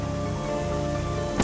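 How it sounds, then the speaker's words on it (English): Steady artificial rain from sprinklers in the Portal 2 video game, a dense even patter that fills the clip at moderate level, with a brief louder burst near the end. "I've never seen it rain before."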